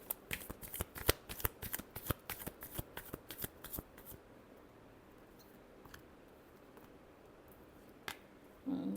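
Tarot cards shuffled in a rapid run of crisp riffling flicks for about four seconds, then near quiet with one more brief flick and a soft rustle at the end; close and moderately loud.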